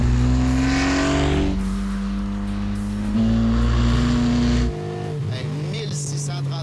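A first-generation or second-generation Renault Clio V6 engine revs hard and climbs in pitch, loud and close from inside the car, then lifts off sharply near the end.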